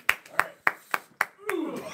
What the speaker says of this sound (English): everybody, please give a nice round of applause for Mr. Joseph Smith.